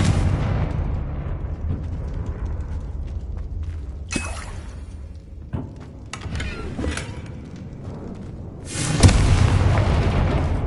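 Confringo blasting-spell explosions from Hogwarts Legacy land as several loud booming bursts, each followed by crackling debris and rumbling decay, with a heavy final blast near the end.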